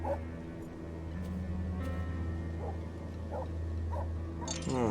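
A dog in a video game whimpers and yips in short, soft bursts over a steady low hum, ending with a brief sharper yelp.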